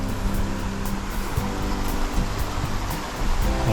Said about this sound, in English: And we're at the Speed River.